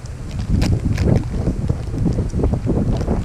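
Gusty wind blows hard across the microphone outdoors, a continuous loud rumbling buffet with no pauses.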